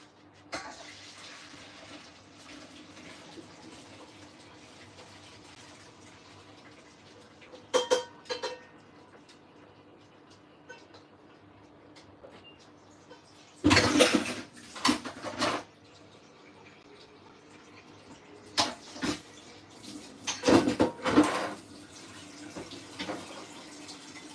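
Sauce liquid drained off a cooking pot into a kitchen sink, pouring and splashing in short bursts over a low background hum, close by.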